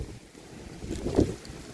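Wind gusting across an open rocky fishing spot by the water, a steady low rushing buffet on the microphone that swells to a louder gust near the end, with no voices.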